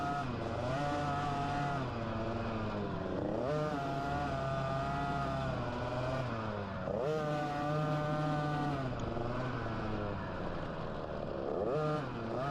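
A TC 50 youth dirt bike lapping a dirt track, its small engine buzzing steadily with repeated rev rises and drops as it accelerates and shifts, heard at moderate distance throughout.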